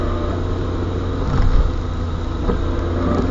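Car engine droning loudly in a learner's car during a driving lesson, a steady low hum that swells briefly mid-way as the revs rise, then settles back.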